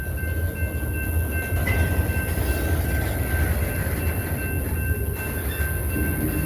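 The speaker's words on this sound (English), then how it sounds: "This is a short train. I think it's just pulling in slowly" A short BNSF freight train pulls in slowly, its steady rumble of wheels and cars continuous and fairly close, with a faint high whine from the wheels running throughout.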